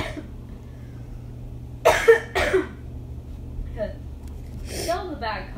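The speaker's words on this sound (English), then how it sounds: "Still the bad cough" Someone with a bad cough from an illness coughs a few times close up, a short cluster of rough bursts over a low steady hum, with quieter voiced sounds afterward.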